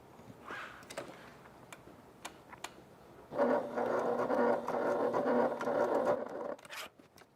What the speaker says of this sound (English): all of this is going to get stitched in place